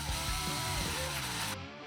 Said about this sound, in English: We're going to use our 3/8 drill bit to drill a hole